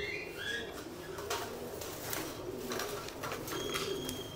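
Pigeons in a loft coo and chirp softly while being fed grits, with faint scattered calls, rustling and pecking throughout and no talking.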